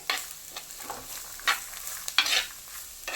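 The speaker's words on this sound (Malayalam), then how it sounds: "നല്ലപോലെ ഒന്ന് മിക്സ് ചെയ്ത് കൊടുക്കാം" A spoon stirs tuna fish thoran, a Kerala-style dish with vegetables, in a hot pan, making several close scraping and sizzling strokes in an irregular rhythm, with no voices.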